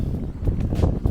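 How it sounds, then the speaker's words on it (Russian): Strong, gusty autumn wind in Krasnodar roars and buffets the microphone in a brief, continuous low rumble. "Ветер вообще бешеный какой-то."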